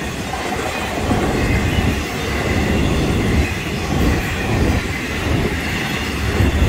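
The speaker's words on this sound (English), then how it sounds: "we got another locomotive on there now. That's some intermodal here." A Florida East Coast Railway intermodal freight train carrying double-stack containers rolls past close by, a steady rumble of wagons with rhythmic wheel clatter and faint squeals, no talk.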